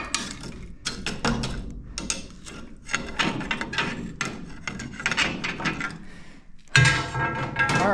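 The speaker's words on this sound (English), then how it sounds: "Let's work some of this rust down there into that gearbox." Rusty gearbox on a fertilizer spreader being worked by hand: dense, irregular metallic clanking, grinding and ratcheting clicks at close range, fairly loud throughout, with a sharper burst near the end.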